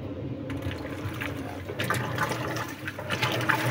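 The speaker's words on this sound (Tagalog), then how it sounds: "Dapat ito ay magkaroon naman ng tubig, magbabanlaw na." Water gushes and splashes steadily into a Maytag washing machine filling for rinse, a continuous rushing fill with faint background talking.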